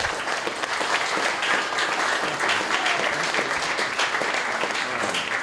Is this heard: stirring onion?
no